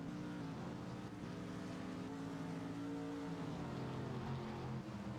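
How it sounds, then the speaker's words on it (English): Muscle car engines roar in a Trans Am racing video game at Lime Rock Park, a steady dense drone with shifting harmonic pitch as revs rise and fall, continuous and fairly quiet throughout. "The sound in this game is so realistic. You can't beat muscle cars."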